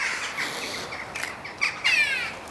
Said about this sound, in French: Ah, les oiseaux commencent à chanter joyeusement.